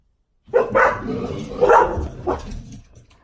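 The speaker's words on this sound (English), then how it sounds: "they heard a sound, so now they're barking." A dog barks a few times up close, loud gruff woofs in quick succession after a moment of silence.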